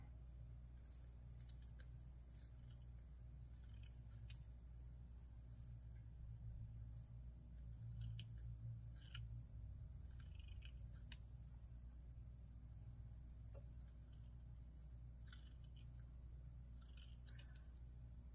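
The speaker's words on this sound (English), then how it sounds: "So I'm cutting them apart individually." Scissors snipping fabric trim pieces apart, a string of small irregular clicks and snips close by and quiet, over a steady low background hum.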